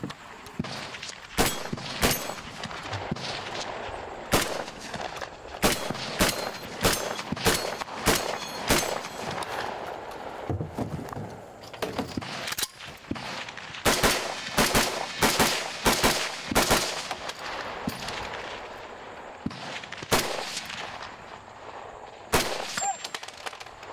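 Rapid volleys of gunfire crack out at a competitive shooting match, with dense bursts of loud, sharp reports followed by brief pauses and then more clustered shots across the whole stretch.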